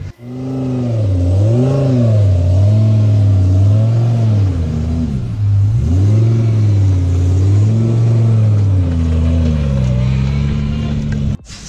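A race car on the Catalonia circuit revs loudly and close, its engine note rising and falling in repeated swells as it pulls away and accelerates, steady and dominant throughout.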